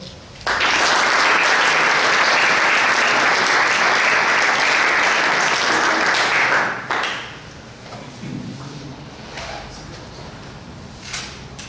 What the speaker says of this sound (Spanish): Para que le damos un fuerte aplauso.